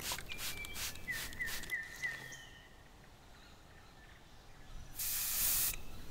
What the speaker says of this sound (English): Try spraying some water.